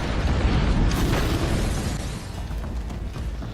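A loud, roaring car explosion in a film, with a rumbling broadband tail that slowly fades over a few seconds, no voices present.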